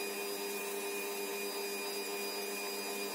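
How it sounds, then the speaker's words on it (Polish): A steady, even motor whine with a constant pitch runs throughout without change, an electric kitchen mixer mixing gluten-free churro dough with eggs. "Teraz miksuję masę jeszcze przez kilka minut"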